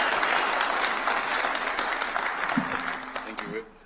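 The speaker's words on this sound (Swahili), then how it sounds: "Tumpige makofi yake" Sustained applause from an audience at a State House event welcoming the Nairobi governor, dense clapping that fades out near the end, with a brief voice over it.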